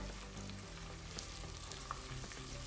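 Chopped onions sizzle and crackle steadily in a hot pan as they are stirred, a continuous frying hiss with faint scraping, fairly quiet and without talk.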